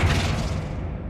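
A Flipendo spell blasts in Hogwarts Legacy, one short booming thump that decays quickly into a fading low rumble, close and fairly loud.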